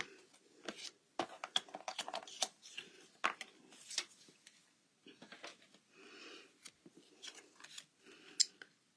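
Scissors cut through a piece of card stock in a quiet series of short, crisp snips and rustles, irregular and close, with brief pauses between.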